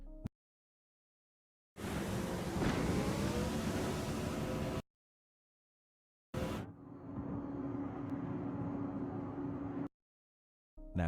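1972 Monte Carlo driving in traffic. The engine revs loudly in two bursts, each with a rising, tonal whine, separated by sudden stretches of silence.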